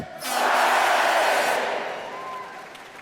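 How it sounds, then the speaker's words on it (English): The Last Night of the Proms 2009 audience roars a loud, sustained cheer during three cheers, swelling quickly, peaking, then slowly tapering off. "So let's give 3 cheers. Hip, hip! Oh, louder, please."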